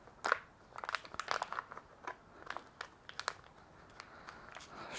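Irregular crunching and cracking snaps sound close by as a blade cuts into a motorcycle lithium battery casing, sharp bursts separated by short quiet gaps.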